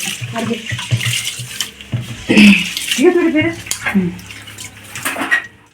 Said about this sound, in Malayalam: നന്നായിട്ട് കഴുകിയെടുക്കാം